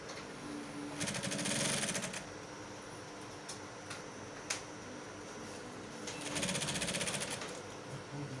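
A sewing machine stitches fabric in two brief motor-driven bursts of rapid whirring, separated by a quieter pause with a few isolated clicks as the material is rearranged.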